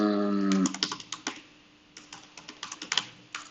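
Rapid, uneven keystrokes clatter on a computer keyboard at close range, following a short murmur of voice at the start.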